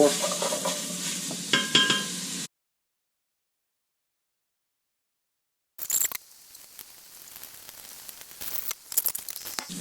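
Sausage browning in a pot for a potato stew, sizzling and being stirred, with a silent gap midway before the crackle and scraping return more softly.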